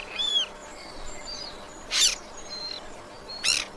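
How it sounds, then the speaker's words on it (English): Nightingales sing at night in a quiet setting, with soft whistled phrases broken by two sharp, bright trilling bursts, fairly faint and with no voices. "only nightingales fill the silence with their song"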